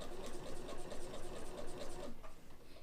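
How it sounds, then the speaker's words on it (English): A sewing machine stitches up the side of a fabric pattern weight with a ribbon sewn in, a steady, fast mechanical whirr that runs continuously and close by at moderate volume, with no talk. "we're gonna sew up this side."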